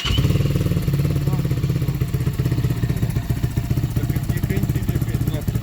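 A Geon Scrambler 300 motorcycle with a modified, quieter exhaust idles up close with an even, low, pulsing throb, while people talk over it.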